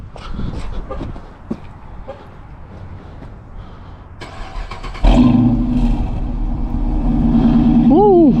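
A 2013 Dodge Charger R/T cranks and fires up on a snowy 29-degree morning, catching abruptly into a loud, steady cold-start idle that rises into a brief rev near the end after a quiet stretch of outdoor noise.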